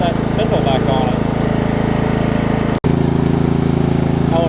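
A Murray riding mower's small engine runs steadily close by, its loud, even drone going the whole time with one brief dropout near the end and no talk over it.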